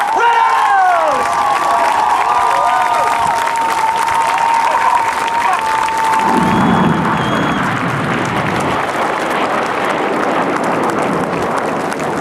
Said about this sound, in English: Let's have a big Langley cheer for the 2008 Red Arrows!